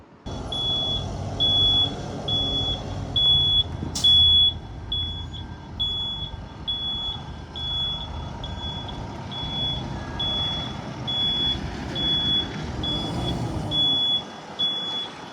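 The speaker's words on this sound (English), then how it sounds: "he's gonna reverse the vehicle to the left and bring it back into the station" A truck backing up during a CDL offset backing exercise gives off steady, evenly spaced high reversing beeps over a rumbling idling engine, with a sharp brief knock early on and the beeping continuing throughout.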